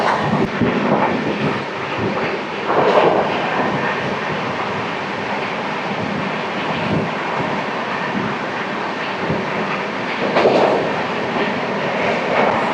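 12862 Superfast Express running at about 130 km/h, a loud continuous rumbling roar heard from on board, with rhythmic swells and rattling of the carriage, no talking.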